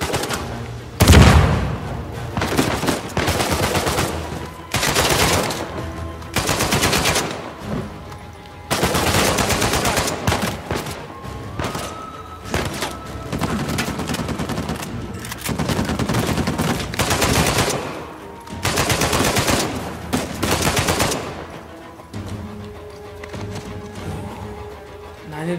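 Gunfire in the Uncharted 4 video game crackles in repeated bursts and single shots, loud and close, with uneven gaps between the volleys.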